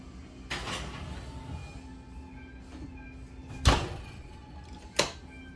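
A pot slides into a home oven for a slow bake of Italian sausage with rigatoni, ending in two sharp thuds as the oven door shuts, with softer clatter beforehand in a quiet kitchen.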